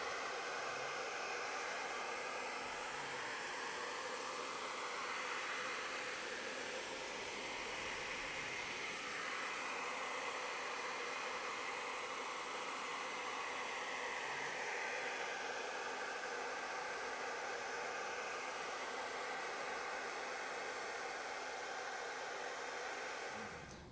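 Steady, loud rushing blast of a hair dryer running continuously, with a ping pong ball held in its airstream, a broadband airy hiss that holds at an even level throughout.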